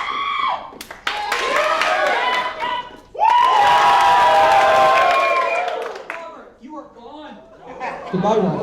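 A live audience at an improv comedy show cheers and shouts with some clapping to vote a player out of a scene. A loud, sustained burst of crowd noise follows brief voices and fades back into scattered voices and laughter.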